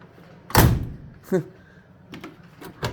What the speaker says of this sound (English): Remember how nice these doors opened?